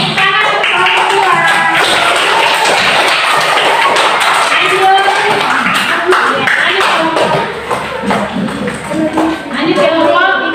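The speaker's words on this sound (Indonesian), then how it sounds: "Tepuk tangan untuk kelompok 2." Classroom applause for a student group after their presentation, a dense continuous patter of many hands clapping at close range that swells and briefly eases near the end, with chatter mixed in.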